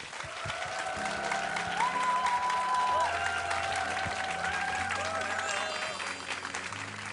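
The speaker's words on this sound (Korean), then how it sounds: "큰 박수로 맞아주세요" An audience at a book concert claps steadily to welcome an actor-author to the stage, and the applause swells and then fades while a music track with a melody plays underneath.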